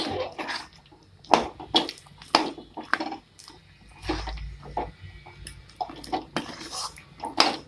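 Kovilpatti-style peanut candy (kadalai mittai) mixture is stirred in a pan with the stove off, giving irregular scrapes, knocks and clatters of the utensil against the pan, close and fairly quiet.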